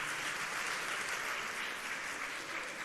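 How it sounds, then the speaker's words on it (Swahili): Audience applause fills a church during a political address, a steady dense clapping wash that stays loud and even throughout without a break. "tuwapigie makofi"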